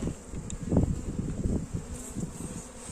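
Honeybees from a caught swarm buzz steadily while being eased onto a frame in a foam box used as a makeshift hive, a close, continuous low hum with a few soft knocks and no talking.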